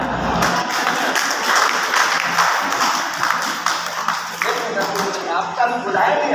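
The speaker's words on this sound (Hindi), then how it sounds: "तालियां।" An audience applauds at a motivational stage event as a garland is presented, with steady clapping throughout and voices talking over it.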